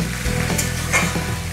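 Cabbage frying in oil is stirred in a pan, giving a loud, close, steady sizzle with soft scraping and shuffling strokes and no voices.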